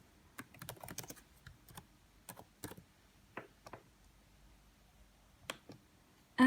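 Keys on a computer keyboard tapped out in short irregular bursts while entering a company name, close and clear with quiet gaps between clusters of clicks.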